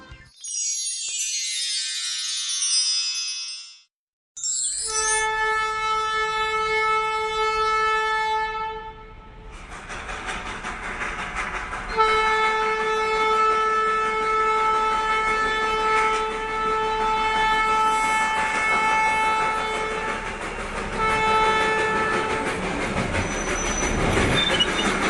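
Darjeeling Himalayan Railway toy train in the Indian hills, running with rumbling carriages and wheels and sustained horn-like whistle tones, loud throughout after a brief pause near the start.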